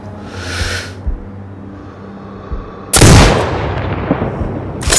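In the video game Sniper Ghost Warrior Contracts 2, a single loud sniper rifle shot cracks sharply and rolls into a booming echo over low ambient game noise, with a faint whoosh before it.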